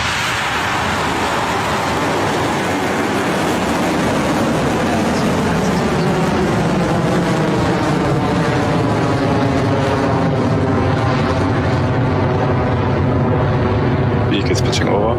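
Rocket Lab Electron rocket lifting off from Launch Complex 1B in New Zealand, a loud, sustained broadband roar that holds steady for the whole stretch, with the engine noise dominating and no voices standing out.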